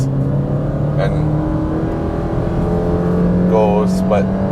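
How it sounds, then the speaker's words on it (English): A 2020 Subaru Forester GT Edition with a 2-liter engine accelerating under hard throttle, a steady engine drone building from inside the cabin while people talk over it. "Like if I put my foot down now, it goes and"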